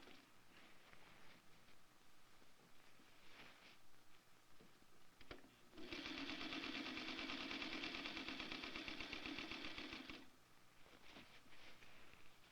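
A vintage sewing machine runs close up, stitching a dress seam allowance near the edge and the metal, with a steady rapid whir in a long burst between softer stop-start runs.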